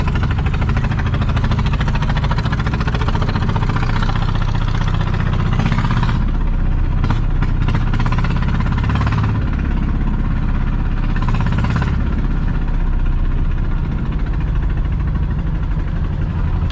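A motorcycle fitted with newly made wheels runs in second gear, its engine a loud, steady, close drone with a rough vibrating rumble that holds unbroken throughout.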